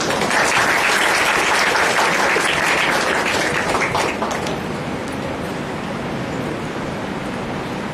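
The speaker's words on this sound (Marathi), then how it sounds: "तुम्हाला टाळ्या वाजवायला लावल्या त्यांनी" Audience at a college poetry recitation in Thane applauding after a poem, dense sustained clapping from a large crowd that stays loud and then eases slightly toward the end.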